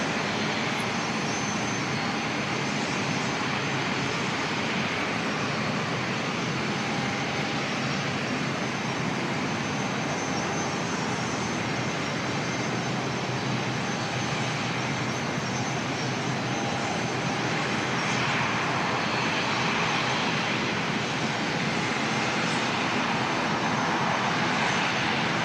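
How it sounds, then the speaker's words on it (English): An Air New Zealand Airbus A321neo jet taxis slowly at Auckland Airport, its engines producing a loud, continuous broadband roar and whine that holds steady throughout. "It's the newest A321neo in the Air New Zealand fleet"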